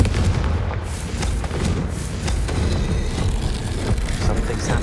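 The Confringo explosive spell bursts in the Hogwarts Legacy video game, a heavy booming blast followed by a dense, steady rumble of game noise that continues throughout.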